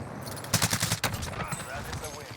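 Shotgun blasts from a Dragon's Breath shotgun loaded with stopping power rounds in Warzone, a cluster of sharp close reports over about half a second and another single crack, with game noise behind.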